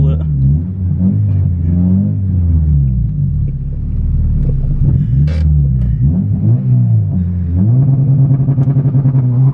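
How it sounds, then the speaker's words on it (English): An EP3 Honda Civic Type R with a remapped engine launches and accelerates hard, a loud engine drone rising and falling through revs close by, with people talking over it. "Go on, send it, launch control it."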